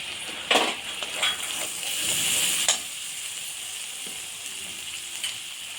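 Ginger paste sizzles in a hot pan while chickpea masala is being cooked, a steady bright frying hiss with a few clinks and stirring scrapes near the start, close and fairly quiet.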